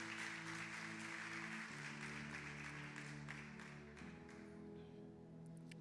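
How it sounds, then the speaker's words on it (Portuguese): Congregation applauding the Lord during a women's worship service at a church in Brazil, sustained steady clapping over a held organ or keyboard chord that shifts pitch twice, fairly faint and slowly thinning toward the end. "Você pode aplaudir o Senhor?"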